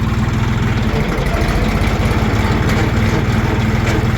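A Jinma tractor engine idles steadily close by with a low, even rumble and constant vibration while its gearbox is shifted through the gears, with no voices present.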